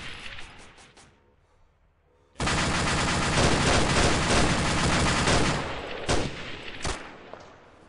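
Video game gunfire in Arma during Operation Chenarus: a dense, sustained roar of rapid shots and explosions that breaks off, then a few sharp single cracks, loud and continuous with a brief lull before the volley.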